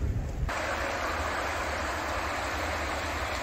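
Steady rushing of flowing water beside Magoksa temple, a broad continuous wash that stays loud and even throughout with no voices over it.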